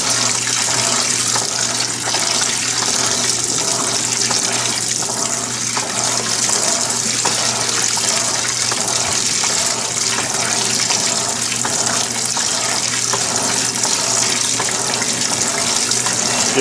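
An Electrolux Perfect Wash 16kg (LPE16) washing machine fills with water while washing household bedspreads, giving a steady, loud rushing and hissing flow that runs unbroken throughout with no voices.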